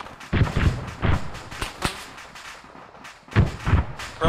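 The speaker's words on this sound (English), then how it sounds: "Taking heavy fire now." Heavy gunfire in the Arma 3 military simulation comes as repeated sharp cracks and bursts of shots, some close and loud, with quieter pauses between volleys.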